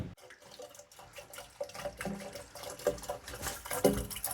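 Water runs and gurgles into plumbing pipes during a leak check, a bubbly, irregular splashing flow with small pops and surges that grows slightly louder toward the end.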